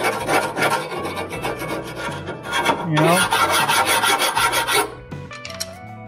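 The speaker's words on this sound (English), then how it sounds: "take a file like this, break off the big chunks" Close, gritty rasping strokes of a metal file scraping back and forth over a Subaru Impreza 2.5L engine block, steady and rhythmic, with a brief spoken phrase near the start.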